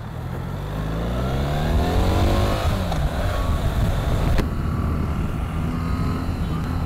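A BMW R 1300 GS motorcycle in dynamic mode pulls hard under acceleration, its engine note rising steadily and loud with rushing wind noise around it.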